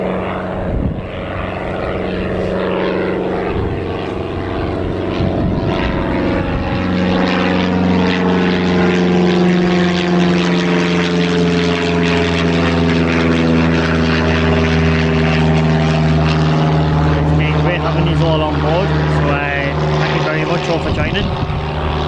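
A KLM airliner approaches and lands at Newcastle Airport, its loud, steady engine drone holding close for over twenty seconds with shifting whine, while people chat outdoors underneath.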